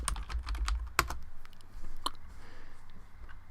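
Rapid keystrokes on a computer keyboard, a quick run of close, crisp clicks with one sharper tap, then a few scattered keys over a faint room hum.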